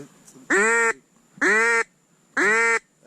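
A duck quacks three times, loud and close, each call a drawn-out nasal quack spaced evenly about a second apart over a quiet background.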